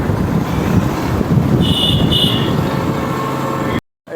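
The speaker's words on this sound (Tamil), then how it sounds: "நல்லா காற்றடிக்கி" Strong wind buffets the microphone near the Courtallam waterfall, a steady low rumble and roar that runs continuously for a few seconds before cutting out abruptly, with faint tonal chirps briefly above it.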